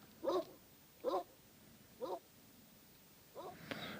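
A big, heavy dog in the 2003 film Dogville barks four times at roughly one-second intervals, loud and close, with a longer, rougher burst at the end and no talk.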